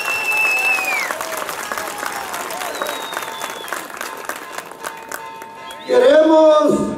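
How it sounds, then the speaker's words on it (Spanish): Crowd applause at a municipal mayor's swearing-in ceremony, scattered clapping under a voice and faint tonal sounds, ending with a loud, brief burst of noise. "Un caluroso aplauso para el señor alcalde."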